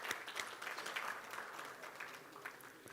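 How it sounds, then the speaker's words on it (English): An audience at a late-running official event gives a round of applause, a steady spread of claps heard faint and distant throughout. "You all deserve a big round of applause."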